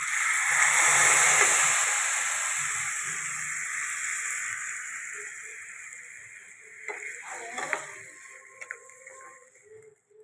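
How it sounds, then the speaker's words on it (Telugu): Tempering of onion, green chili, ginger and curry leaves in hot oil, a loud close hiss that slowly fades, then light crackles and ticks as the sizzle settles. "అల్లం కూడా వేసి చిన్న చిన్న ముక్కలు కోసి ఇదిగో తాలింపు వేసాను"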